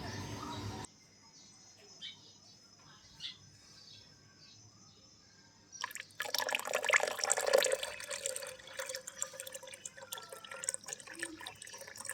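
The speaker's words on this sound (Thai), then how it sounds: "ก็ให้เทน้ำออกแบบนี้เลยนะครับ" Rinse water is poured out of a container during gold extraction from electronic scrap, a quiet start followed by a sudden loud splashing, gurgling stream that runs on unevenly.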